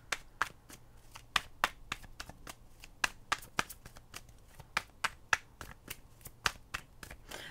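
Tarot cards are shuffled and drawn for a reading, giving a steady run of crisp, close snapping riffles and flicks at an irregular quick pace, with no talking.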